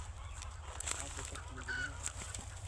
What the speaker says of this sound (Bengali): তোমার দেশি মুরগিগুলো খুব দুষ্ট না?